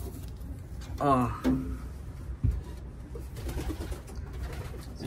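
A racing pigeon cock coos in a loft, giving a few soft, low, throaty calls close by while people talk briefly over them.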